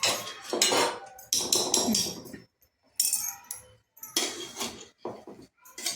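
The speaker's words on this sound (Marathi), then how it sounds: "आणि या चमच्याच्या साह्याने आता सगळं आपल्याला हलवून घ्यावं लागेल." A spoon scrapes and clanks against a pot while mango pickle is stirred, in several bursts of close metallic clatter broken by short pauses.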